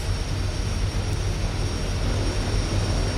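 A turboprop engine in the X-Plane flight simulator runs up to high idle, giving a loud, steady, close roar with a constant whine that holds evenly throughout, with no voices.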